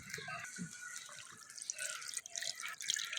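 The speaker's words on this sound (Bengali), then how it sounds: "এবার জল দিয়ে দেবো।" Water poured into a pan of cooked-down potatoes and green peas, a steady hissing, splashing rush that stays close and fairly loud throughout, with no talk.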